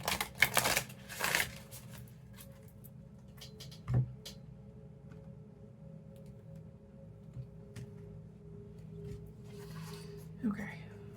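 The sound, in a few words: shuffling and pulling cards from an oracle deck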